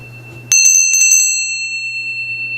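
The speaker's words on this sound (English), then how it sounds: "Then we have a small Indian style bell," A small Indian style bell is struck once, close and clear, giving a sharp metallic clang followed by a long ringing, gently beating tone that slowly fades.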